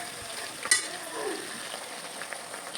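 Village-style chicken curry frying in a pan gives a steady low sizzle, broken by one sharp clink of a spoon and a few soft stirring scrapes, fairly close and moderate, without talk.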